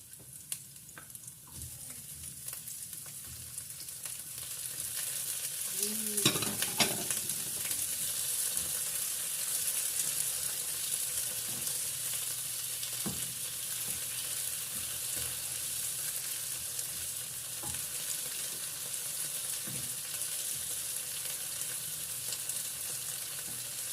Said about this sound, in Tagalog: Lalagay ko na po guys yung shrimp